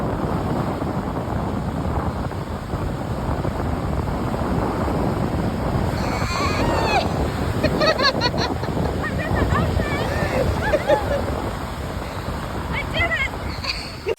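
Ocean surf rolls steadily onto a Florida beach, a loud continuous wash of waves with heavy wind buffeting the microphone and brief bright splashes partway through.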